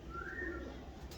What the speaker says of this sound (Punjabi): ਇਹ ਕਬੂਤਰ ਮੈਨੂੰ ਪੂਰੀ ਗੇਮ 'ਚ ਸਭ ਤੋਂ ਜ਼ਿਆਦਾ ਪਸੰਦ ਆਇਆ ਜੀ